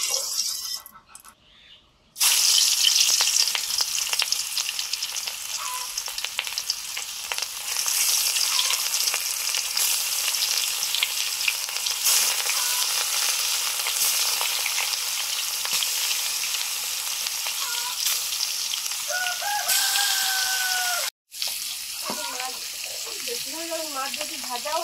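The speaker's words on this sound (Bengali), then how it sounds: "সরষের তেল দিয়েছি মাছগুলো ভাজার জন্য।" Fish sizzling in mustard oil in a pan, a steady loud hiss of frying with brief pauses and a few faint clinks, heard alone without talk.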